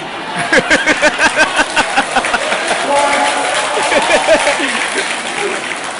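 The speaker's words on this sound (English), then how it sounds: "I'd be happy if you'd be clapping for me, but it disrupts the entire flow of the proceedings" At the 2019 Cebu City mayoral debate, the audience bursts into close, loud applause with rapid rhythmic clapping in bursts, while voices murmur and chatter beneath it.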